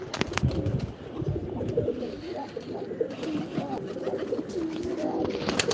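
A pet pigeon, one of a kept pair, coos in soft repeated throaty rolls close by, steady throughout with faint background noise.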